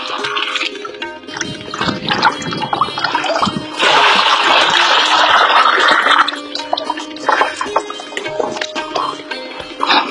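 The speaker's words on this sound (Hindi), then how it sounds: "फिर बाद में हम इसमें डालते हैं गुड़, जो पानी में डाल के रखा है 2 किलो गुड़।" Jaggery dissolved in water, about 2 kg, poured into a farm mixture for cow-based farming, making a loud continuous splashing gush mid-clip amid scattered sloshing and clatter, with no talking.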